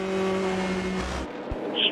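Endurance race cars at the ELMS 4 Hours of Portimão, a red Ferrari number 51 among them, roar past with a steady high engine whine that cuts off abruptly, then faint track noise.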